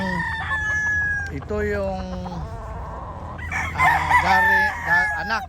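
Gamefowl rooster, a sweater cross bred from a Raptor hen, crowing loudly and close in repeated drawn-out calls with clucking between them, at a small backyard fowl farm in Davao City.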